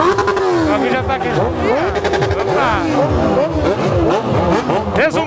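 A Yamaha XJ6 motorcycle engine revving hard in a crowd of heavy bikes, with repeated rising and falling throttle blips layered with other engines, loud and near, and voices talking over it.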